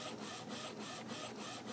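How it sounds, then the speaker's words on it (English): An Epson printer works through an image print over AirPrint, with a steady mechanical whir and a soft pulsing rhythm of repeated carriage passes. Faint and continuous, with no voices. "Currently printing an image right now"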